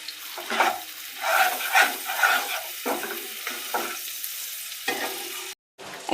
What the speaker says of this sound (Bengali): হালকা করে একটু তেলে নেড়ে নেব।